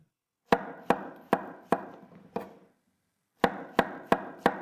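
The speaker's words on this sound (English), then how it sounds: "now we'll cut them into slightly thicker slices, because they'll shrink a lot when frying" A knife slices mushrooms on a cutting board in sharp, evenly spaced chops, five in a row, a short pause, then four more, crisp and close with no talking.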